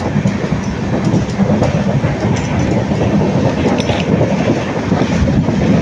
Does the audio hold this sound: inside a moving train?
yes